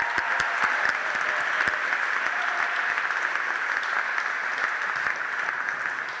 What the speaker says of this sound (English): a short but loud round of applause for all of the Year 10,